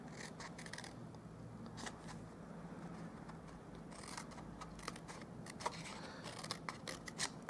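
Scissors snip through cardstock while trimming pieces for a Stampin' Up! bone-themed party favour craft, with soft repeated cuts and light paper scrapes at close range in a quiet room.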